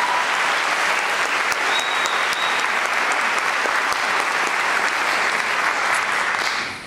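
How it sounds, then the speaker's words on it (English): A large audience at a university welcome event for new students breaks into loud, dense applause that stays strong for nearly seven seconds before starting to fade at the very end. "if we could give the campus a round of applause,"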